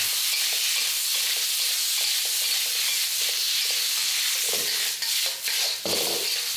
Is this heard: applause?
no